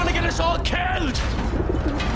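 Pigeon cooing in the Battlefield 1 video game, soft repeated coos mixed into busy battle ambience and other game sounds.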